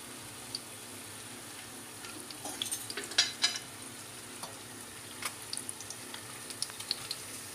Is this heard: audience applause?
no